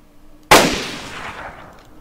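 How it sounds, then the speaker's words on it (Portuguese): A single gunshot in the DayZ video game, one sharp loud crack followed by a lingering echoing decay, with no talk. "Foi só um tiro? Foi só um tiro."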